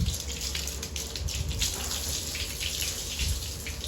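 Water gushes from a tap or is poured out to wet a floor, a loud, steady splashing rush close by, with no voices.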